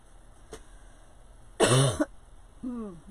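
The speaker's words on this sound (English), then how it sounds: "I'm still clearing my throat." A single harsh cough burst followed by a shorter throat-clearing rasp, close and fairly loud against a faint background hum.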